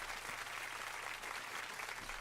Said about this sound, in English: Let's have a big round of applause for Bo Campbell, everyone.